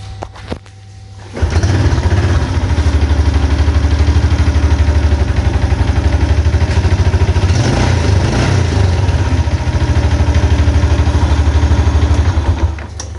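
A Yamaha Jupiter Z1 motorcycle with a rough-running engine on the right side, one that stalls when put into gear, starts after a brief quiet moment and then idles loudly and close by in a steady, lumpy rumble, with no talking.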